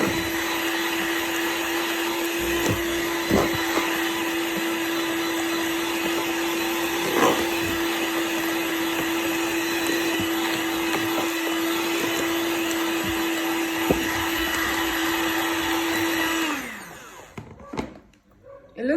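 A stand mixer steadily whirs through red velvet cake batter, a constant motor hum with occasional clicks and knocks of the beaters against the bowl, then winding down and stopping near the end.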